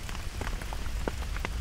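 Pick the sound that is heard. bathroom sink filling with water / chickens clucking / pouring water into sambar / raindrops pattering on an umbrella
raindrops pattering on an umbrella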